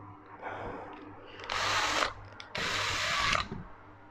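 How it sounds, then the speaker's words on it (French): A power drill bores holes in plastic for an ant water-dish stand, with two loud, close whining bursts of about half a second to a second each, separated by a short pause, over faint handling noise. "il vous suffit de prendre une perceuse et de faire des trous"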